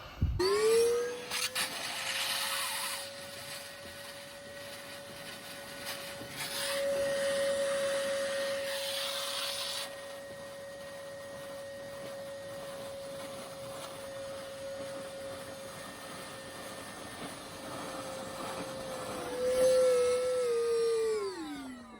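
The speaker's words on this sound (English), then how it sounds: "let me get the hoover plugged in." A vacuum cleaner sucking up flood water from a summer storm in Italy: a steady motor whine spins up, holds with gurgling, slurping intake noise, then winds down near the end.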